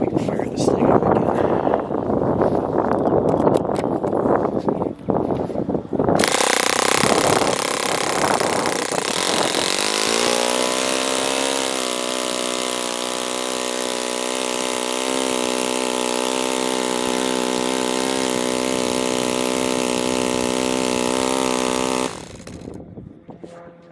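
An OS FS20 four-stroke model engine starts up and runs steadily at a high, buzzing pitch for most of the clip, loud and close, before cutting off near the end; a voice talks briefly at the start before it fires.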